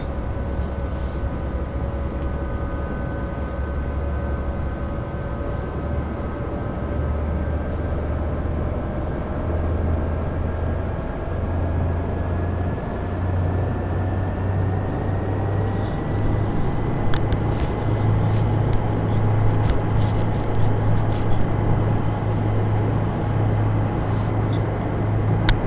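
Simulated Bell 407 helicopter turbine spooling up as the throttle is run up, a steady droning whine that climbs slowly in pitch over a constant low rumble, continuous and close.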